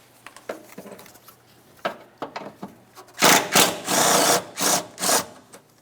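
Ratcheting and scraping of a wrench backing out the four 10mm mounting bolts on the wiper transmission of a 1994-2002 Dodge Ram 2500, with scattered light clicks building to a run of loud, close, rhythmic strokes.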